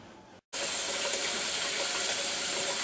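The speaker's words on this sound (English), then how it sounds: "we're going to put it into a crock pot filled with water" Water gushes steadily from a tap into a crock pot while Christmas candy is being made, starting abruptly after a brief moment of silence and running loud and continuous.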